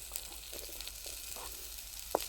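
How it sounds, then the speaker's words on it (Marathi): Green chilies sizzling in a little oil over a wood-fired chulha stove while preparing pithla, a soft steady frying hiss with faint crackles and one sharp pop near the end. "आता आपल्याला थोडंसं तेल घालून मिरची टाकायची आणि नंतर मीठ टाकायचं बघा आता आपल्याला टाकायची मिरची"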